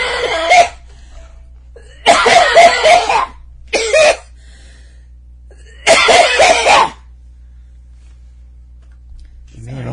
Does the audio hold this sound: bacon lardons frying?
no